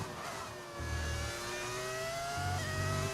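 A Formula 1 race car engine in the F1 25 game, droning at steady high revs with stuttering, uneven low pulses suggesting a misfire, fairly quiet with no talk.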